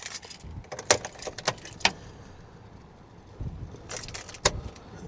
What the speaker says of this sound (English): Let me put the keys in there.